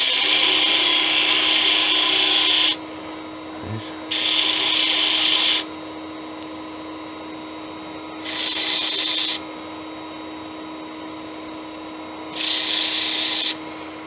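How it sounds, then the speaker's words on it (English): Sandpaper on a turned wooden angel halo, taking off a small nub on the lathe, heard as four separate bursts of loud, close hissing friction with quiet gaps between them over a low steady hum. "I have a little nub there, so I'm just going to sand that off."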